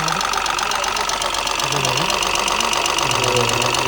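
A running engine with a steady rapid knocking rattle, close and loud, with a faint low voice murmuring beneath.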